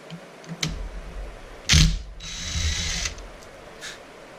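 An impact wrench works on bolts during a Torq Locker install on a Can-Am Renegade XMR 1000R, giving a short, loud rattling burst up close amid quieter workshop clatter.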